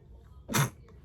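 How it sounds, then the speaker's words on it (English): A single sharp sneeze bursts out close to the microphone, brief and loud against a quiet room. "I'm gonna sneeze now."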